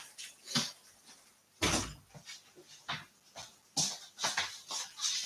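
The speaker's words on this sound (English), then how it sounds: "Let me just shut that door a minute." An indoor door is pushed shut with a single dull thud amid scattered knocks and rustles, while heavy rain hisses steadily outside.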